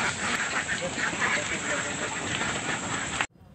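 Ducks and geese at a farm, a dense crowd of continuous quacking and honking close by, steady and loud until it cuts off abruptly.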